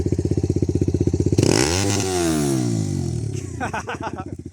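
An EXDRIVE XR-250 or Loncin LX300 dirt motorcycle with 40,000 km on it revs through a swamp, first a close, rapid, pulsing idle, then a loud surge as the engine climbs and falls in pitch, with sputtering toward the end.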